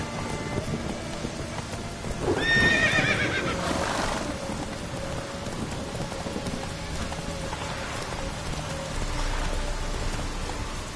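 Roach, a horse in a video game, whinnies loudly and then gallops with steady hoofbeats under a constant patter of rain. The sound is moderately close and nobody speaks.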